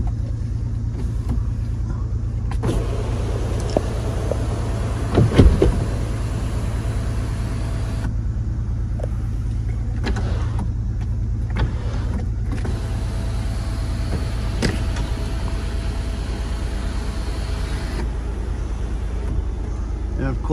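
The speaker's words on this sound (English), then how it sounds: "You can run that rear window up and down." A power rear window on a 2022 Toyota Tundra CrewMax Hybrid Capstone pickup hums as it runs up and down, under a steady low cabin rumble, with a few soft clicks and bumps along the way.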